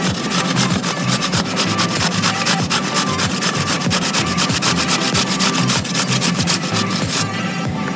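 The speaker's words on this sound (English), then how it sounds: "What I'll do now is just grate my cucumber." Cucumber rubbed steadily against a grater for tzatziki, a close, loud, rhythmic rasping of quick repeated strokes that runs without pause and without talk.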